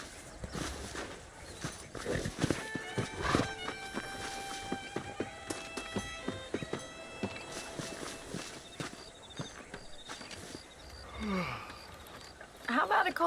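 Hooves clop on the ground as a horse is ridden in the Red Dead Redemption game, irregular thuds mixed with tonal music and a voice talking near the end.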